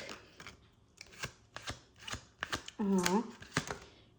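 Tarot cards are shuffled by hand in a quiet room, giving a series of quick, close papery flicks and taps at an uneven rhythm. A brief voiced sound rises near the end.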